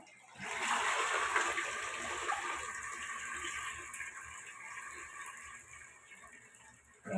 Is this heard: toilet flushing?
yes